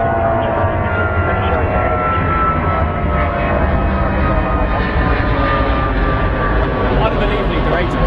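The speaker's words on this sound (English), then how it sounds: "American 330 lining up after this next departing 777." A Boeing 777 departing Heathrow Airport gives a loud, steady engine roar with a broad rumble that holds for the whole stretch, while faint talk runs in the background.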